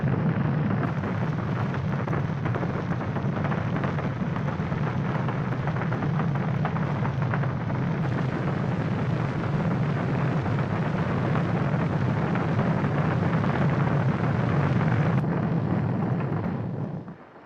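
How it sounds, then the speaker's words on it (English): The Saturn V rocket thunders at launch as a dense, continuous roar, loud and steady for a long stretch before trailing off abruptly at the end, with no voices. "This is Saturn V, the rocket that took us to the moon."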